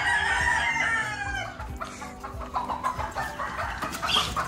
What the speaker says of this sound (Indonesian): Heni itu ayam jantan tapi bulunya kayak betina.